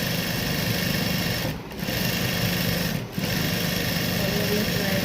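Close, continuous whirring of a sewing machine stitching the border of a suit, running steadily with two brief dips where the needle slows.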